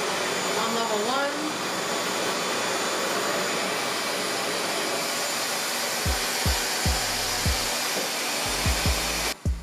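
REVAIR hair dryer running on low heat on thick natural hair, a loud steady whooshing airflow that stays constant, with brief voice fragments early and a few handling thumps near the end before it shuts off.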